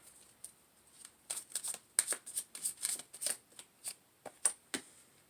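A tarot card deck being shuffled close up: a run of quick, crisp riffling bursts and soft card slaps in an uneven rhythm, with no talking.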